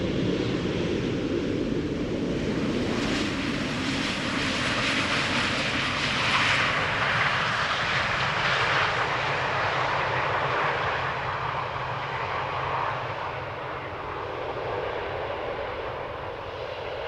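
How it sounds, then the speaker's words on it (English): A KLM Boeing 777-300 arriving at Amsterdam Schiphol from Lima passes with a loud, broad jet roar and hiss that swells, then slowly eases off, with no voices over it. "KLM flight 744, a 777-300 arriving from Lima."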